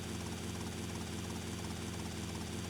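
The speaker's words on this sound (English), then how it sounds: "The helicopter actually helps quite a lot." A helicopter in a Vice City crime game produces a steady, dense rotor and engine roar, constant and fairly loud throughout with no breaks.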